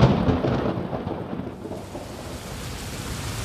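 Heavy rain falls outdoors with deep rolling thunder, loud at first and then easing into a steady, even downpour.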